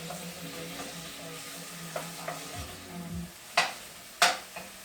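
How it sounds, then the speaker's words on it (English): Chicken sizzles steadily in a hot pan over medium-high heat for pad thai, with a few sharp clinks and scrapes of a utensil stirring. "sizzling there. We got our chicken going."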